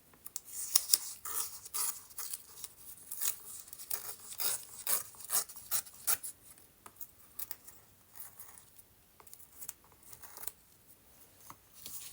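Watercolor background paper is ripped by hand in a run of close, dry tearing and rustling strokes, coming in irregular short bursts with brief pauses, and no one speaks.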